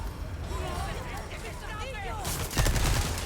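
Rapid gunfire rattles in Resident Evil 4, played on an extreme chainsaw difficulty, as loud bursts of shots near the end while excited voices talk over it.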